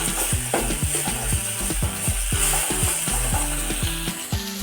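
Chopped onions sizzle in a pan for chicken gravy while a utensil scrapes and stirs them in a quick, steady rhythm of clattering strokes over the constant frying hiss.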